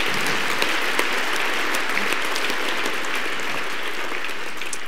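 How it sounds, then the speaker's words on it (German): Gala audience at an awards evening for a hotel manager of the year gives sustained, even applause, a dense wash of many hands clapping from start to finish with no voices on top. "Großen Applaus."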